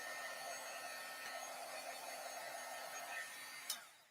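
A heat tool blows steadily on embossing powder on a stamp, a soft continuous fan whoosh that ends with a brief click.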